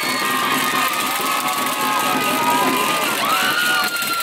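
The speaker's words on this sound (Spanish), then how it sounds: "Pedimos un fuerte aplauso nuevamente para todas y cada una de las participantes" A crowd at the Easter festival queen pageant in Tuzantla cheers and shouts loudly, with children's high voices and whistles rising over a continuous roar.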